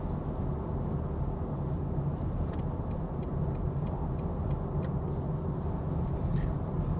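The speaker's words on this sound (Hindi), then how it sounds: "थोड़ा सा टायर का नॉइज़ है और थोड़ा सा हवा ऊपर से जो फ्लो होती है ना, उसका हल्का सा नॉइज़ जो है वो केबिन के अंदर आता है" Steady broadband tyre roar and a soft rush of wind fill the cabin of a BMW M440i convertible cruising at 100 km/h, continuous and even throughout, with faint ticking above and no talking.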